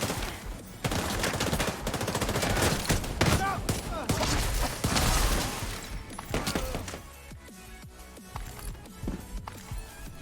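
Light machine gun fire in The Division 2, sustained rapid bursts of automatic shooting with game effects and a voice talking over it, then thinner sporadic shots toward the end.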